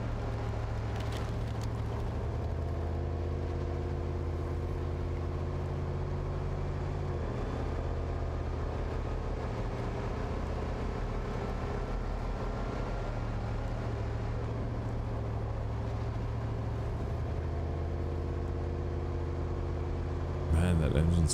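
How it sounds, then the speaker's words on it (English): Truck engine in SnowRunner idling and rumbling steadily with a deep low drone throughout, slightly revving near the end, with people talking faintly over it. "that engine sounds good."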